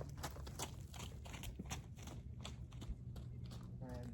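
A lively horse walks at spring training, its hooves thudding in a fairly quick irregular clip-clop over a faint, noisy outdoor background.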